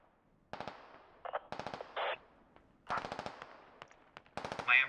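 Video game machine gun fire from an MRAP aimed at an MT-LB, sharp rapid bursts in several separated volleys, fairly close and crisp, with mechanical clanks between bursts and no talk.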